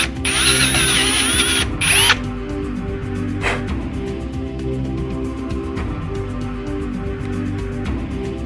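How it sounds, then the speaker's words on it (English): Steady mechanical whirring of a drill tapping threads into a hole for a threaded barb fitting on a Daihatsu Mira EJDE 1L three-cylinder build, continuous and fairly close, with a brief higher-pitched whine at the start. "We're actually going to tap this hole and put a threaded barb in there instead of welding on the fitting."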